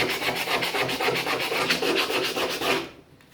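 Rust on metal being wet-sanded by hand with 80 grit wet and dry paper during a restoration: rapid, even back-and-forth rasping strokes, close and loud, stopping abruptly near the end, no voice.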